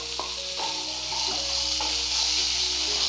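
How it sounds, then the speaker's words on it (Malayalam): Curry leaves and pomegranate seeds are stirred into sautéed onions in a pan, making a soft, continuous sizzle with light spoon scrapes and clicks. The sound is fairly quiet, close up and free of speech. "നമുക്കിതിലേക്ക് എടുത്ത് വെച്ചിരിക്കുന്ന കറി ലീഫ് ഇട്ട് കൊടുക്കാം. കൂടെ തന്നെ പൊമിഗ്രാനേറ്റും കൂടെ ചേർത്ത് കൊടുക്കാം."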